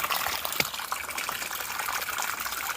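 Water runs down a hiking trail on the Appalachian Trail like a small creek. It makes a continuous, moderately faint rushing and gurgling with no break, heard close by.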